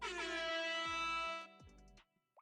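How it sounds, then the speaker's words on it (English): A loud, blaring Discord soundboard air horn blast holds steadily for over a second, then cuts off, followed by brief fading echoes. "Yeah, you can use Discord soundboard. Air horn."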